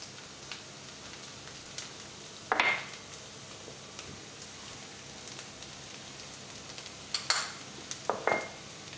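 Onions fry softly in a pan, a low steady sizzle broken by a few sharp scraping clatters of a utensil against the pan, with no talk.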